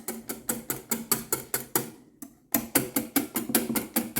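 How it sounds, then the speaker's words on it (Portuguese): Chantilly cream is whipped by hand with a whisk in a bowl, producing fast rhythmic clicking strokes at a steady pace, briefly pausing midway before the brisk beating resumes. "vamos ver se deu certo esse chantilly aqui batido na mão"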